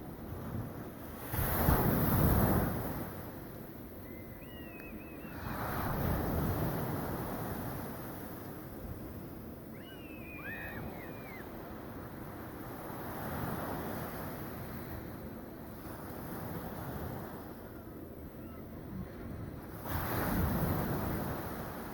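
Surf rolling onto Arrábida beach in Portugal, with steady wash and periodic swells breaking close by, mixed with wind buffeting the microphone and a couple of faint high chirps.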